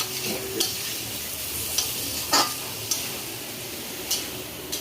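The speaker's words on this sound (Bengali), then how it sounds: "এই আলু আর মাছের মাথাটাকে ভালো করে কষবো।" Rohu fish head and potatoes fry with spices in a pan, giving a steady loud sizzle with occasional scraping taps of a spatula as the mixture is stirred.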